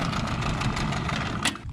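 Outboard engine on a jon boat idling on the river with a continuous low rumble, then a brief clunk near the end as it shuts down and the sound drops off.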